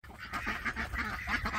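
Chickens honk and cluck steadily while being put into a coop that has an automatic aluminum door, with a dense, continuous flock chorus close by and no talking.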